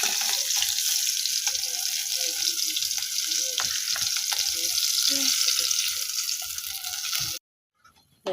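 Potato curry with rui fish simmering and sizzling in a pan, a loud, dense bubbling hiss with soft clinks, then an abrupt near-silence at the end.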